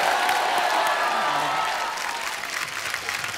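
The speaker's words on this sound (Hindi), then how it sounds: "तो चलिए उनको बुलाते हैं जोरदार तालियों के बीच, please welcome Kriti Sanon and mister Rajkumar raw" Steady applause from a large studio audience on a television comedy show fills the clip, loud at first and easing slightly toward the end, with no speech over it.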